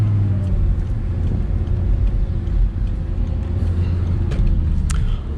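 Audi R8 V10 engine driving in sport mode with manual shifting, a loud, close, continuous low rumble that holds steady for several seconds with no talking.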